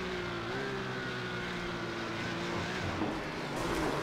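Onboard engine of a Porsche Cup race car at Zandvoort in the iRacing simulator, a sustained whining tone that rises and dips slightly as the car holds speed, then a brief dip and pickup near the end.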